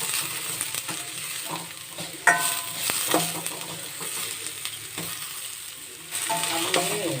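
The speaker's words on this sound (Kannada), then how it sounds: "ಸ್ವಲ್ಪ ಈರುಳ್ಳಿ ಬಣ್ಣ ಕೆಂಪಗೆ ಬರಬೇಕು. ಸೊ ನೀವು ಫ್ರೈ ಮಾಡ್ಕೋಬೇಕು." Onions frying in hot oil with mustard seeds and curry leaves, a steady close sizzle broken by spoon stirs and metallic scrapes against the pan.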